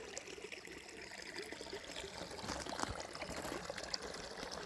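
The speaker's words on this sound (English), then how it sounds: "I love the sound of moving water." A small outdoor stream of moving water trickles and babbles steadily nearby in cold weather, a soft continuous flow with faint splashes and no talk.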